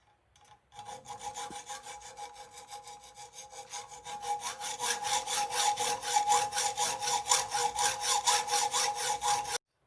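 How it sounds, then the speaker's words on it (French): A hand saw, then a file, scrapes back and forth in a quick, regular rhythm on metal screws from an MBK 51 moped, the strokes growing louder and faster, with no voices. "j'ai passé un coup de scie, un petit coup de lime pour ébavurer"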